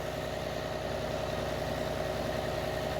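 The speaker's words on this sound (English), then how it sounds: "Tractor's warming up in the background." A tractor engine idles steadily as it warms up, a continuous low, even rumble with a faint rhythmic throb and no break, heard from a short distance with no voices.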